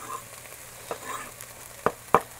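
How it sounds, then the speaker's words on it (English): Minced garlic stirred into a pan of cooking onion for a plant-based Thanksgiving dish, with a soft steady sizzle and a few sharp scraping stirs near the end, no talking. "And we add the garlic after the onion because the onion adds a lot of like protection."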